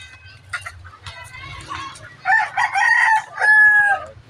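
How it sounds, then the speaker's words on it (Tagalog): Chickens cluck and a rooster crows loudly and repeatedly nearby, over a low background hum. "Ang dami nila mga manok."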